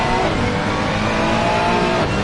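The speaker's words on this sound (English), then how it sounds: "On board again with Dion Staal in the Ferrari 296 GT3" The Ferrari 296 GT3 race car's engine drones loud and continuous at Laguna Seca in a racing video game, a steady high revving roar with no talking.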